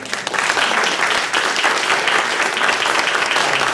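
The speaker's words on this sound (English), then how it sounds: "he should get a special round of applause" An audience claps for a presenter after a talk, a full, continuous burst of applause from many hands, loud and close, running unbroken through the moment.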